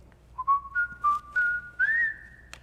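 A person whistling close into a microphone, a series of short rising whistled notes ending in a longer held tone, clear and alone.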